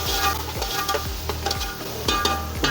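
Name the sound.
chopped tomato pieces frying in a pan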